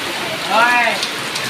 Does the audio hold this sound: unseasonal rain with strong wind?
yes